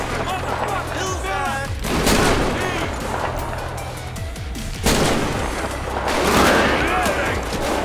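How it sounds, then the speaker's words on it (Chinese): Gunfire in a GTA 5 zombie mod video game, with bursts of shots at a shipyard at night, loud and repeated over busy game noise, mixed with voices talking throughout. "我又遭到射击了"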